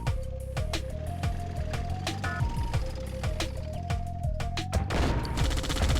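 Rapid bursts of gunfire in the Red Alert 2: Yuri's Revenge video game, dense and repeated over beeping unit tones and game effects, loud and continuous throughout.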